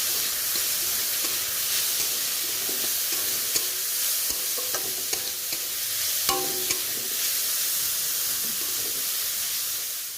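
Potatoes fry in a pan with salt, turmeric and chilli powder, giving a steady broad sizzle for the whole stretch, with occasional stirring scrapes and clicks on top and no talking.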